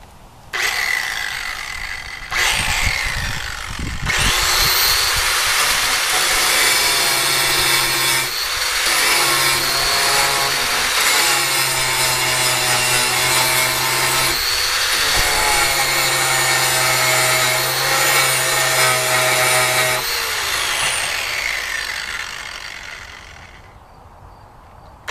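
Loud, continuous abrasive grinding of a steel live steam track joint with an angle grinder for about twenty seconds, with a few brief pauses and shifts in pitch, then winding down to quiet.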